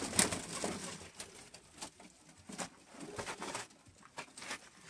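Pigeons on a rooftop loft give soft, scattered coos at close range, with light rustling and a brief flutter of wings among them.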